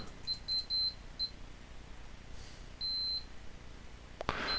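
Continuity tester beeping across the contacts of a replacement ATX power switch: several short electronic beeps near the start, then one longer steady tone, with a brief click or clatter near the end.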